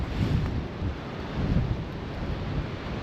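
Strong wind blows across an exposed tarp and bivvy camping spot, producing a continuous low roaring rumble that swells and eases in gusts. No voices are heard.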